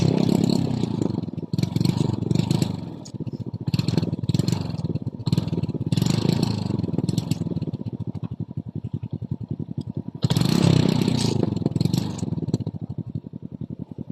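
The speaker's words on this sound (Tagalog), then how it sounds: "Kaya panarin natin ang kanyang motor guys. Try natin kung hindi pa palyado." A Kymco Visar 110 underbone motorcycle with a misfiring engine and weak pickup idles and is revved, rough uneven putt-putting rising and falling in surges, close and loud throughout.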